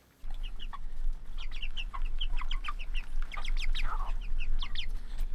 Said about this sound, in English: The meat birds are doing really good out here.